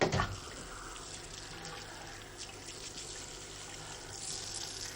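Tap water runs steadily into a salon sink for a hair wash, a soft continuous hiss with a brief splash at the start, fairly quiet and with no talk over it.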